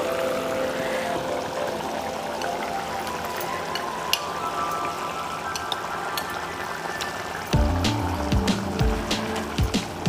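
Six boiled eggs drop into a simmering yogurt masala curry, a soft bubbling sizzle followed by a louder burst of splashing and clattering thuds as the eggs go in, with no talk.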